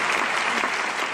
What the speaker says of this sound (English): This is an audience in Budapest applauding after a performance.